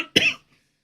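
A single short, harsh cough from an adult suffering from allergies, close and fairly loud, followed by quiet.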